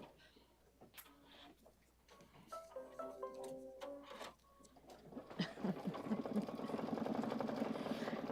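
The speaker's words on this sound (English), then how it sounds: "We're still embroidering over here." An embroidery machine stitches a design at a Kimberbell spa event, a rapid rhythmic mechanical patter that builds from quieter intermittent stitching to a steadier, busier run, heard from nearby.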